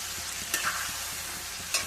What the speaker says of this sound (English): So I'll just fry it for some time